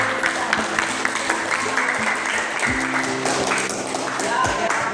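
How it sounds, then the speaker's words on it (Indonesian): Students in a classroom clap together during a lesson, a moderate patter of hand claps that runs throughout, with a teacher's voice and some tapping sounds mixed in over a low background hum. "Berikan tepuk tangan untuk teman yang telah melakukan rangkuman pada hari ini."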